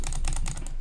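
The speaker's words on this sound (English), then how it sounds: "I'm clicking like 10 times per second, but it's only counting like every 5 with my mouse." Old computer mouse clicked rapidly during a Skywars game, a fast steady run of sharp plastic clicks at close range with no voices.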